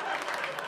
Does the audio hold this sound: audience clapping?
yes